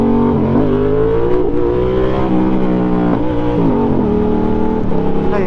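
A Yamaha MT-07 motorcycle, unrestricted, pulls hard in second gear with traction control off, its engine note rising loudly and continuously through the revs, recorded close with wind rush.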